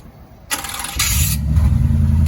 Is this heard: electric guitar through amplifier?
no